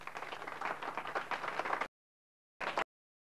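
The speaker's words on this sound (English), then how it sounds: "Let's give her a round of applause." A theater audience gives a volunteer a round of applause at a mentalism magic show. The dense, close clapping cuts off abruptly, then a short second burst follows.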